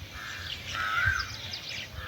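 Small birds perched on an overhead wire on a misty morning call out, a faint drawn-out chirping cry over soft background hum, with no talk.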